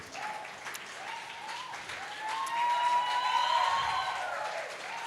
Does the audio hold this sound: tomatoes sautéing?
no